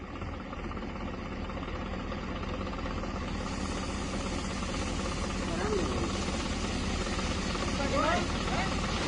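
Tractor engine running steadily while a farm trolley is unloaded, a loud continuous low rumble through the whole stretch with faint voices in the background.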